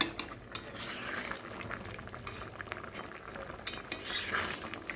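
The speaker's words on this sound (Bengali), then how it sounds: "একটু লঙ্কাগুলো গুঁড়ে দিই।" Chillies are crushed with a spoon into a thick prawn, taro, potato and okra curry in a pan. Soft scraping and clinks of metal on the pan sit over a low bubbling simmer, fairly quiet, with no talking.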